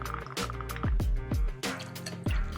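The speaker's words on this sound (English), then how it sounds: "1/2 ounce of green Chartreuse" Green Chartreuse glugs out of a bottle into a jigger for a cocktail, four or five distinct gurgling pulses of liquid close by over a couple of seconds, with no one speaking.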